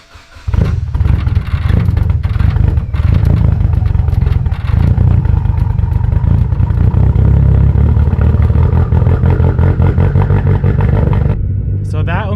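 A car engine running on high-ethanol fuel (about 66% ethanol) cranks and catches, then idles loudly and steadily with a rough, rumbling roar until it cuts off near the end.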